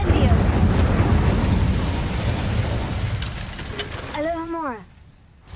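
A fire spell goes off in a wizarding video game, a loud roaring burst of flame and rumble that fills the clip, with a short tonal chime near the end before it cuts quiet.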